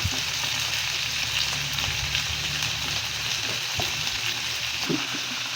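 Tomatoes fry in a pan alongside bitter gourd and egg, giving a steady, loud, dense sizzle that holds without a break, with faint scrapes of stirring now and then.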